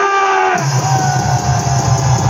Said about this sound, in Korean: 함성 한번 시작!